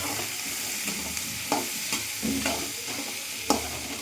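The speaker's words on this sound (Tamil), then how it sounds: "தக்காளி பழம், தக்காளி போடுறாங்க நேயர்களே, கலக்குறாங்க" Tomatoes are stirred into frying masala for a mutton curry, a low steady sizzle broken by a few sharp scrapes and clacks of a spoon against the pan, with no talking.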